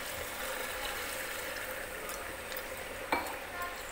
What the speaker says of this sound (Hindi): दूध डाल के अच्छे से गोश्त भुन चुका है